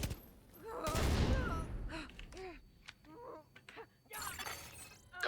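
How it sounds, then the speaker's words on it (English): Grenade blast in a first-person action video game, a loud broadband burst near the start followed by clattering debris and short game effects, with talk heard around it. "Grenade deployed."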